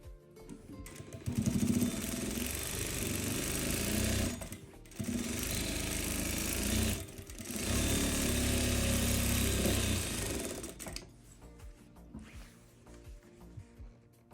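A sewing machine runs in long, fast, buzzing bursts while stitching the hem seam of a salwar, loud and close, with brief pauses between runs and quieter fabric handling near the end.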